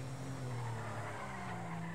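A drift car skids continuously, a steady rough tire-and-engine roar holding at constant loudness throughout, close and with no talking.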